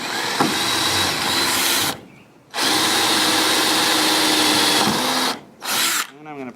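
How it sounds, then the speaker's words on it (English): A power drill pre-drills a hole in a wooden bed floor on a ramp truck, two loud sustained whirring bursts broken by short pauses, then a brief final spin-up near the end. "I'm going to pre-drill the wood"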